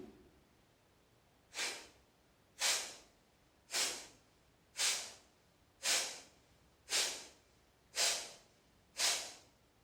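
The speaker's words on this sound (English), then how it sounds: "7 rounds of Bhastrika, of Kapalabhati." Bhastrika and Kapalabhati yogic breathing: eight forceful, breathy exhalations through the nose, evenly spaced about a second apart, each a sharp rushing puff that trails off, close and clear with no talking.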